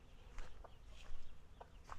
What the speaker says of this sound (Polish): Kura chce chyba przejść.